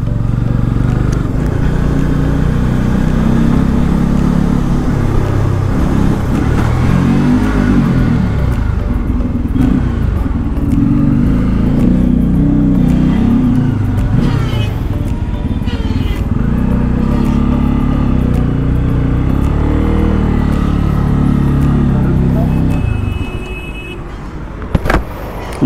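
Steady, loud engine drone of a Bajaj Pulsar N250 motorcycle on a test ride, a continuous low rumble with slight swells in pitch that cuts off near the end.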